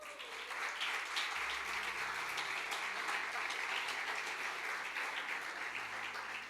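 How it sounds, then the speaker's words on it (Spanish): A church congregation at a Sunday service applauds for the Lord, a steady wash of clapping from many hands at moderate distance that holds evenly for several seconds. "Dale un aplauso al Señor"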